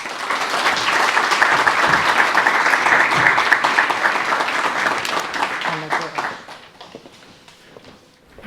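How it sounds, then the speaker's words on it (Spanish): An audience at a talk in Albacete breaks into sustained applause, loud and steady for about six seconds, then thinning out to a few scattered claps before fading. "le vamos a dar un aplauso"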